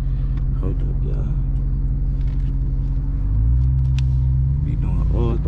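A Ram TRX pickup truck idles and creeps along off-road, a low steady engine rumble that swells slightly partway through, with someone talking over it.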